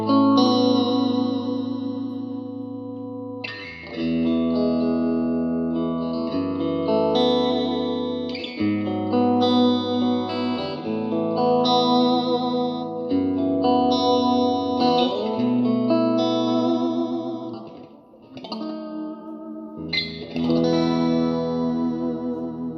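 Clean Stratocaster electric guitar played through a Marshall DSL1CR amp with reverb, ringing chords and single notes with long decaying tails, loud and alone without talk.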